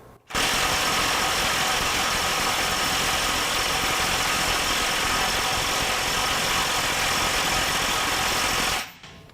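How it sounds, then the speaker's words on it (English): A DeWalt DCF891 20V XR mid-torque impact wrench hammers continuously at a 1000 foot-pound setting, a loud dense rattling burst that starts abruptly, holds steady for about eight seconds, then cuts off. "Now we're going to jump to 1000 foot-pounds."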